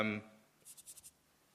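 Marker or chalk strokes writing an expression on a board during a Haskell lecture, a short run of about five quick scratchy strokes following a brief burst of speech, then quiet.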